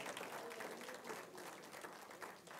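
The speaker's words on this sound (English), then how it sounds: "Give the Lord a hand." A church congregation applauding, steady dense hand clapping that fills the whole stretch, fairly faint and distant with no talk over it.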